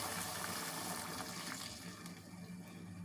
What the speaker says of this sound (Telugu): 1 కప్ చిక్కటి పాలు యాడ్ చేసుకోవాలి